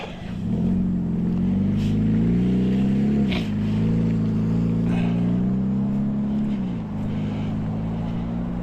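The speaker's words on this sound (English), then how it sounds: "You see how that truck just started at the stoplight after stopping?" A truck pulls away from a stoplight after stopping, its engine note rising in a steady low drone that climbs and shifts through gears, loud and continuous with no talk.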